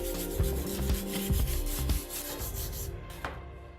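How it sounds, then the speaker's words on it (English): Abrasive rubbing and grinding over fresh welds on a metal mirror frame for a powder room, a steady rasping scrape with short bursts, close up and fairly loud, no voices. "Now we just clean up these welds and we're ready for painting."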